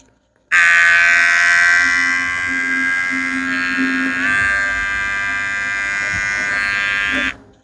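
A Brdclip two-speed beard trimmer switches on and runs with a steady, close, high-pitched electric buzz for about seven seconds, then cuts off.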